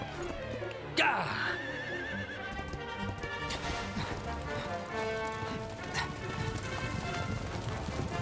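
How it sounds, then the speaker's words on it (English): Horses in the Dragon Quest XI S video game give a sharp, close whinny and then steady galloping hoofbeats. A crash and shouting voices sound over the running hooves. "Some convenient horses."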